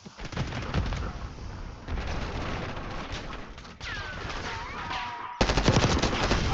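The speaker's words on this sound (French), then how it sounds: "Je lance une grenade." Call of Duty combat: dense, continuous automatic gunfire with rapid bursts and a grenade blast, loud and close, jumping sharply in intensity near the end.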